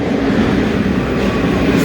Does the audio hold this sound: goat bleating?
no